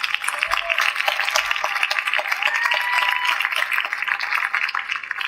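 Audience applause at an evening NJROTC parade at a Florida high school, a steady wash of many hands clapping together, sustained and fairly even throughout with no voices rising above it.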